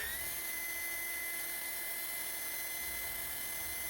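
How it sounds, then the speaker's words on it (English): An impregnated polishing disc spins at 3000 RPM against white porcelain, a steady high-pitched whine like a small dental drill, constant and close with no pauses. "start pre-polishing at 3000 RPMs with an impregnated disc"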